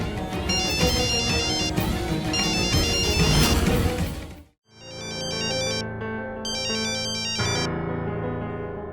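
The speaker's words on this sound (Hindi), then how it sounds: "फोन बज रहा है, उठा क्यों नहीं रही है?" A phone ringtone plays loud and continuous in a domestic TV drama, a dense electronic melody at first, then after a brief gap a repeating chiming ring pattern that pulses on and off.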